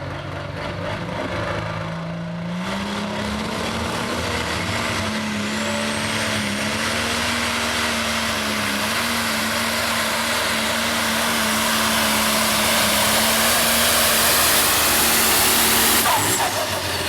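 A super/pro stock pulling tractor at an East Coast Pro Pulling League event in Boonsboro, revving well over 5,000 RPM with about 4,000 horsepower, gives a loud sustained engine roar whose pitch climbs and holds for the full run, close and without talk.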